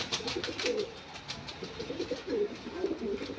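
Pigeons coo in a loft of fancy show breeds such as Red Lahori and Mundian: repeated throaty, rolling coos, close and clear, overlapping in a low continuous murmur.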